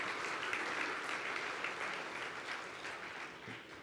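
An audience at a conference claps in sustained, fairly distant applause that holds steady for a few seconds and then tapers slightly.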